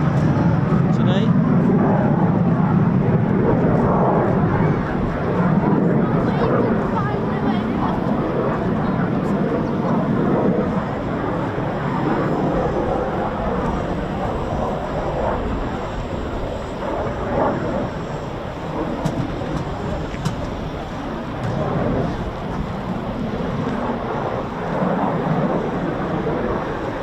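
An RAF Typhoon FGR4 fighter jet flies the circuit at RAF Coningsby, a steady, loud, distant jet roar lasting throughout, with a person talking over it.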